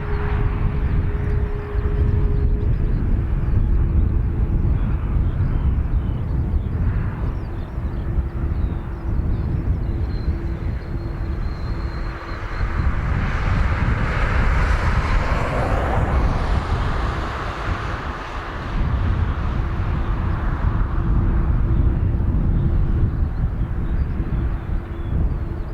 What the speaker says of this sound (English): We have AIR due in today, the green Gulf Stream.